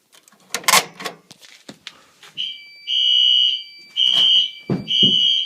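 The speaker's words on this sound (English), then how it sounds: "As you can hear, that's a remote strobe." Clattering handling noises give way to a fire alarm system with a remote strobe sounding in repeated long, shrill electronic blasts with brief gaps, close and loud.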